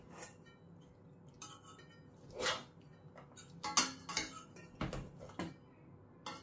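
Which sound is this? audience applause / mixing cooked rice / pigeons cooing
mixing cooked rice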